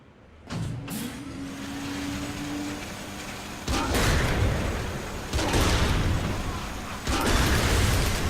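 A tank in Saints Row: The Third rams and blows up cars, heard as a motor whine followed by several loud crashing, rumbling bursts of impact and explosion.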